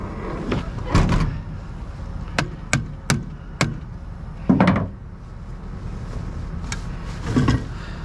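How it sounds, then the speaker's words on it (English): A hammer strikes metal on a car in a series of sharp, separate knocks, some single and some in quick pairs, with dull thuds and workshop shuffling between them. "Hammer it is."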